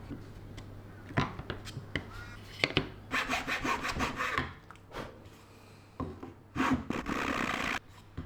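Hand file rasping across a plastic tea dispenser part, irregular bursts of scraping strokes, close and fairly loud, with pauses between passes.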